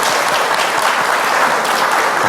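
An audience claps together at a televised education forum, a dense, loud, continuous round of applause with no voices heard over it.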